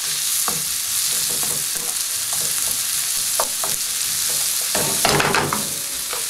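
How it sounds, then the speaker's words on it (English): Egg bhuna sauce sizzles steadily in a pan while a utensil scrapes and stirs through it, the clatter of stirring coming in clustered strokes over the constant frying hiss. "This has been cooking, frying up for about 3 or 4 minutes."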